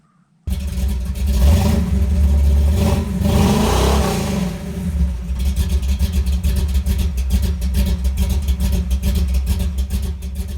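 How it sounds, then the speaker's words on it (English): Cold start of a Chevy small block V8 with a lopey cam in a C10 pickup at 15 degrees: the engine catches after a brief silence, roars loud and close, then settles into a steady, uneven, loping idle rumble. "I decided to seize the opportunity and do a epic cold start for you guys."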